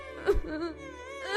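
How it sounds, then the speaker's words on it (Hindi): A woman whimpers and sobs in a short, wavering moan, alone and close up, set as a story effect of someone weeping in a dense forest. "तभी राजकुमार को एक महिला के रोने की आवाज सुनाई दी।"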